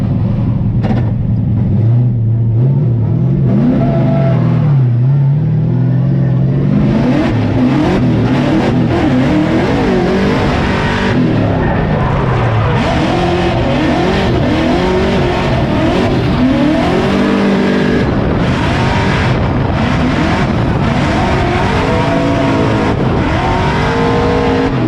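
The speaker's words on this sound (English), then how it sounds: "I'm drifting. doing some badass laps in Long Beach." A Formula Drift car laps the Long Beach street circuit in 2023. Its engine screams loud and close, with constant revving and rising and falling pitch sweeps, and tire squeal runs under the roar throughout.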